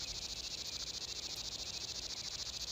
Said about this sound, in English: Really annoying cricket sound that I had as, like, stock sounds.